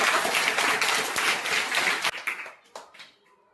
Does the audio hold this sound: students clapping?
yes